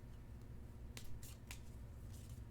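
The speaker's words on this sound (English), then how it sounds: "Let's do another quick shuffle here." A Yu-Gi-Oh card deck being shuffled by hand: a few quick, soft riffling bursts over a quiet background, with no talking.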